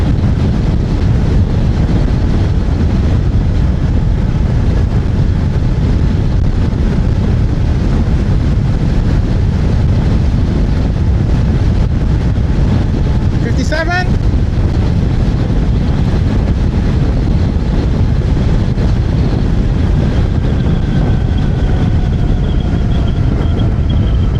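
Loud, constant wind buffeting roars across the microphone while riding a seated scooter in New York City, a low rushing noise with a faint engine whine beneath and a brief chirp near the middle.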